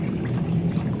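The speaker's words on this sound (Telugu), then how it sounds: "కూరను బట్టి నీళ్ళు కూడా వేసేసుకోవాలి." Water poured into a pot of drumstick sambar curry as it cooks, a steady close pouring and trickling wash with no talk.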